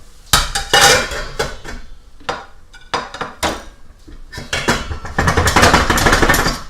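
Green pepper goes into a hot pan of caramelized onions over a medium-high flame, making loud metallic clanks and scraping from a utensil against the pan, followed by rising sizzle and stirring toward the end, close up.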